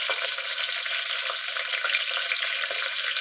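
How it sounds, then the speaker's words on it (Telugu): Mustard seeds and cumin crackle and sizzle in hot oil for tomato rasam, a steady, close frying hiss with small pops throughout and no voices. "ఇప్పుడు మన ఆవాల జీలకర్ర మంచిగానే వేగుతున్నది"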